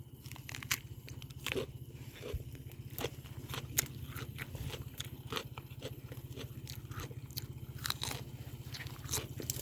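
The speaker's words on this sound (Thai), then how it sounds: "อร่อยทุกคำที่กัดค่ะ" Someone bites and chews a raw, fresh-picked Korean vegetable stem, producing a run of close, crisp crunches and wet snaps that come steadily one after another, quiet but distinct over a low steady hum, with no talk.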